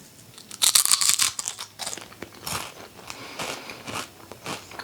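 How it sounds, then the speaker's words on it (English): Loud, close crunching from biting into crisp homemade keto tortilla chips, a sharp burst of crackles followed by several softer chewing crunches, with no talking. "listen carefully for the crunch."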